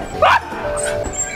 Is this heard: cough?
no